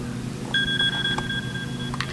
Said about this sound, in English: Sonar beep.